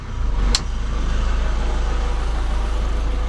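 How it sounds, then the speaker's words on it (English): A steady, loud boat engine revving in neutral via a Morse shifter lever, droning at high idle with a deep, even rumble; a brief sharp click sounds near the start. "when you pull this lever out, it revs in neutral. That's what you've been hearing."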